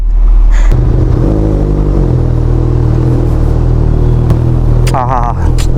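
A motorcycle engine rumbles steadily and revs as a morning ride begins, loud and close, while people talk over it.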